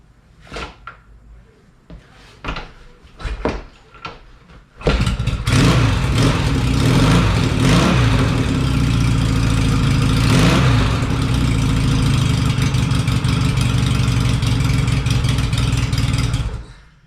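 An old 650 motorcycle on its side stand takes several sharp mechanical kicks, then the engine catches and settles into a loud, steady idle that runs close and continuous until the end.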